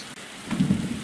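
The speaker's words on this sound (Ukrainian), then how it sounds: "Ще плюс починається е, дощ з грозою." Rain with a rumble of thunder in the Roblox game 99 Nights in the Forest, a short burst of hissing downpour swelling into a low, loud thunder roll, with no talking.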